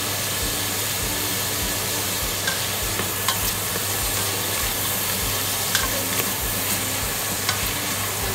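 Chopped onion frying in a hot pan gives a steady, loud, close sizzle that never lets up, with faint scrapes now and then and no voices.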